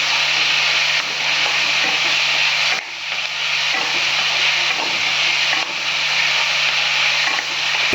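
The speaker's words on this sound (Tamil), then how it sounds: "போட்டு அப்படியே லைட்டாக மிக்ஸ் பண்ணுங்கள்" Tomatoes stirred into paneer sukka in a hot pan, a steady sizzling hiss with soft scraping strokes of the spoon at intervals, close and fairly loud.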